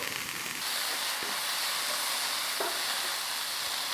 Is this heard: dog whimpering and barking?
no